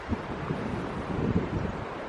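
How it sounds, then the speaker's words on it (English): Strong wind gusts over a hiking trail near a parking lot in Ogden Canyon, a steady broadband rush buffeting the microphone with brief louder swells, no voices. "It's very windy."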